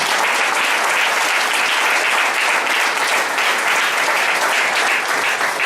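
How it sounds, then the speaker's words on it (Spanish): Church congregation applauding during a sermon, a dense, continuous wall of clapping from many people filling the room, loud and steady throughout. "Denle un fuerte aplauso al Señor"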